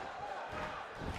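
Arena wrestling crowd in the WWE 2K18 video game, a large audience roaring and chanting as a sustained wash of cheers and shouts, moderately distant and steady throughout.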